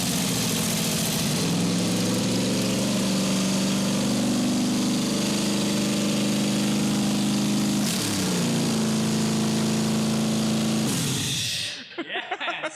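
A turbo LS engine in an AMG wagon cranks briefly and catches, then runs loud and rough with a shifting idle for several seconds before cutting off abruptly, leaving brief faint noises.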